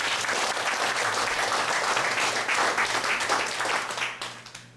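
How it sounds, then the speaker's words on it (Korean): An audience at a peace forum applauds to welcome a professor taking the floor, with dense, sustained clapping filling the room before it tapers off at the end. "발표해 주실 윤석산 교수님을 박수로 환영해 주시기 바랍니다."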